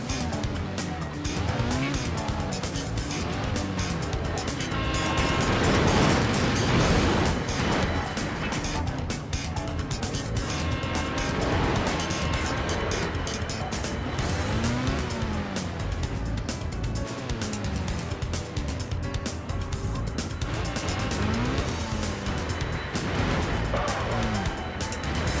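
Cars racing in the Midnight Club 3 video game, engines roaring continuously with repeated loud tire squeals and skids as vehicles drive and slide, a dense, unbroken wash of motor noise.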